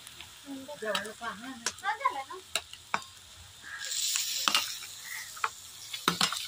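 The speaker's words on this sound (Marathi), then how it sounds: "आता त्याच्यामध्ये वांगी परतून देणार।" Brinjal stir-fries in a pan over a wood-fired stove, with sizzling and scraping stirs. Clicks and short bursts of a nearby voice come first, then a denser frying hiss swells midway, heard close.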